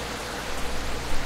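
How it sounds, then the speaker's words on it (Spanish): Steady rain falls across the game world of Z Dawn, a turn-based zombie strategy RPG, a continuous hiss of drops spread evenly with no voices over it. "Está lloviendo, ¿eh?"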